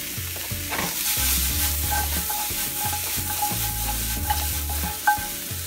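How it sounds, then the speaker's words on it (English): Mushrooms sauté in a pan for a chicken Marsala, a continuous close sizzle with frequent spatula scrapes and one sharp clack near the end, no speech. "We're gonna saute these for another minute"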